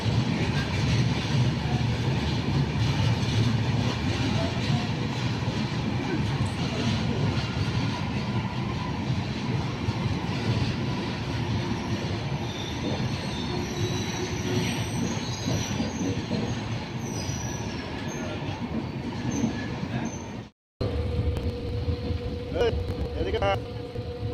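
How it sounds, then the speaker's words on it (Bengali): Passenger train running toward Alipurduar and Siliguri, a loud steady rumble of wheels and carriage noise from inside with faint squealing, continuous throughout, a brief dropout near the end before the rumble resumes; faint voices sit underneath. "এই ট্রেনেই যাব আলিপুর, তারপর শিলিগুড়ি।"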